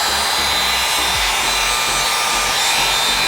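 A Helen of Troy 1.5-inch professional hot air brush blowing on its highest setting, giving a steady, even broadband whoosh of airflow with a faint motor hum, close and constant throughout, with no talking.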